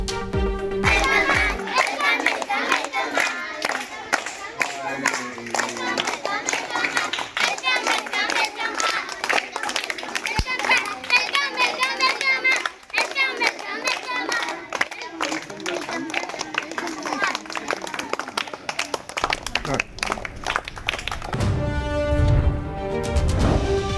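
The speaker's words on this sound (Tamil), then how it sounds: "பள்ளியில் இருந்த மாணவ மாணவியர் கைத்தட்டி உற்சாகமாக வரவேற்றனர்" Schoolchildren clap loudly and steadily in a crowded school setting to welcome actors Arjun and Thambi Ramaiah, dense applause mixed with excited children's voices for most of the stretch, ending in a brief burst of music.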